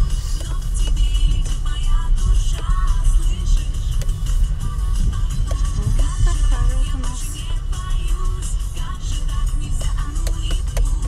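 A family car drives over rough roads full of potholes and ditches, giving a steady low rumble of engine and road noise throughout with faint background sounds.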